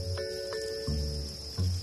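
A steady, high chirring of farmed crickets hangs in the background, with a few soft low thumps scattered through the short quiet stretch.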